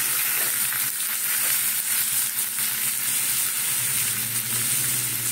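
Chopped tomatoes hit hot oil in a pan and sizzle steadily, a dense continuous hiss that stays loud and close throughout, with faint stirring underneath and no talk.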